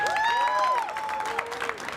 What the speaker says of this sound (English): So if you can please give your best round of applause for Mr.